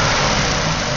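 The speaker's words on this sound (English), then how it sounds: "what I'm going to do is go ahead and snap the throttle." A car engine with a waste spark ignition system roars as the throttle is snapped, a loud, steady, dense engine sound filling the whole brief moment with no talking.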